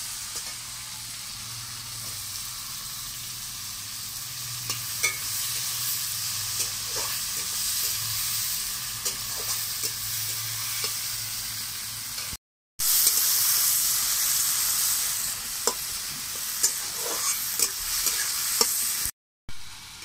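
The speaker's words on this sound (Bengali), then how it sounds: "এবার আমি পেঁয়াজ কুচি দিয়ে দেবো।" Chopped onion hisses and sizzles steadily in a pan with tomato for a chicken curry, while a utensil stirs it and gives repeated scraping knocks. Two brief silent gaps break the frying.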